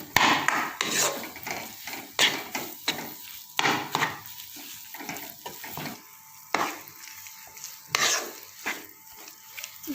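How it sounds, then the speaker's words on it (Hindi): A kabab mixture with milk stirred in a pan over a slow flame: steady scraping and clinking of a spoon against the pan, uneven strokes with a soft sizzle underneath, close and fairly quiet. "ये इसको हम अच्छी तरह जो है वो मिक्स करते हैं"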